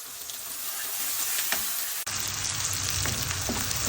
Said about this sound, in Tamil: கொஞ்சம் வெங்காயம் நல்லா முருகட்டும்